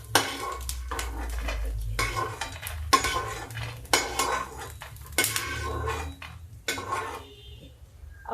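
Food being stirred and roasted in a pan over a low flame, with repeated scraping strokes of a utensil against the pan and faint sizzling, no talking.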